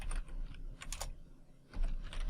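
Keystrokes on a computer keyboard as a PowerShell command is typed, a loose run of quick clicks with a short pause mid-way, close and fairly quiet, no talking.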